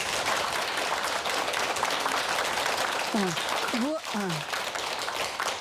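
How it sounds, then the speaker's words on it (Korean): A studio audience at a televised lecture claps together, a dense patter of hands running the whole time with a few faint voices rising through the middle. "자, 박수 한번 크게 한번 쳐주세요."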